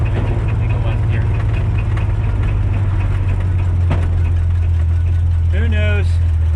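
A 1947 Ford Coupe engine runs at a steady low drone on a test drive, with a constant rumble filling the cabin. A voice speaks briefly near the end.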